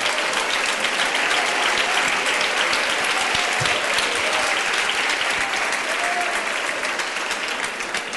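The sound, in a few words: congregation applause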